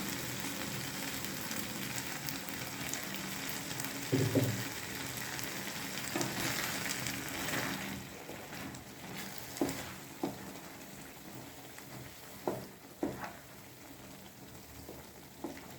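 Prawn masala frying in a pan: a steady, close sizzle and bubbling hiss, with scattered scrapes and taps as a spoon stirs through the thick masala.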